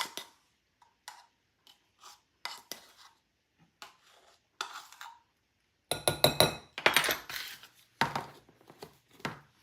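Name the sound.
mixing dry baking ingredients in a bowl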